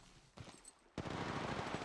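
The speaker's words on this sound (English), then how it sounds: "I'm getting shot at" Gunfire in the mobile shooter Apex Legends Mobile: a faint burst of shots, then loud, sustained rapid automatic fire up close.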